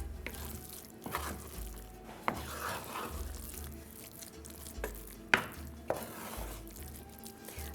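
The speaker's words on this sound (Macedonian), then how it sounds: "Убаво ќе го измешам и ќе почнам со правење на бомбиците" A spoon works through a tuna ball mixture in a bowl with soft, wet, squelching strokes and a few sharp knocks against the side, close and quiet, in an otherwise calm kitchen.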